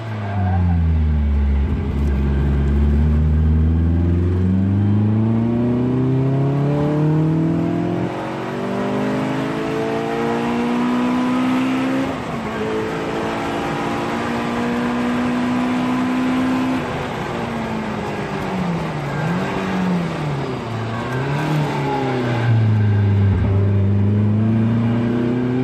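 A Caterham's engine howls at full throttle around the Croix-en-Ternois circuit, rising in pitch through the gears with brief dips at shifts, loud and close throughout.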